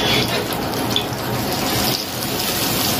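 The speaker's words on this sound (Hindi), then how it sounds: "देखिए कितना बढ़िया फ्राई हो रहा है।" A small pigeon egg fries in a pan with a dense, steady sizzling hiss throughout, close and fairly loud, no voices.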